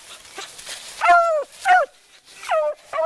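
A big dog on a swamp rabbit hunt bays in three loud, drawn-out howling barks, close by and separated by short pauses, with soft rustling and no clear speech.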